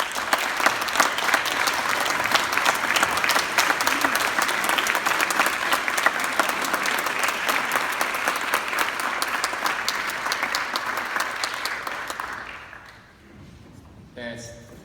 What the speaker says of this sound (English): let's take a second and give our folks a round of applause